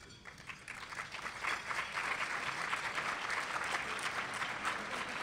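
An audience at a bar association luncheon gives sustained, dense applause that starts slightly softer and swells to a steady full roar, heard from within the room.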